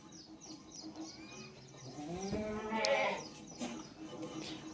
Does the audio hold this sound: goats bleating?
yes